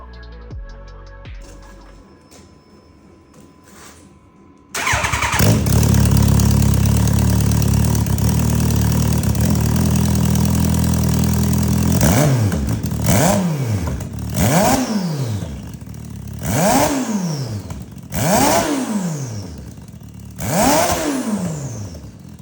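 Turbocharged Suzuki Hayabusa drift bike engine cranks over and catches after a quiet lead-in, then settles into a loud steady idle before several sharp blips of revving rise and fall in a regular rhythm.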